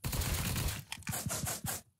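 Gunfire in Apocalypse Rising 2 rattles in a dense rapid burst, then a string of distinct sharp shots about every quarter second before it cuts off.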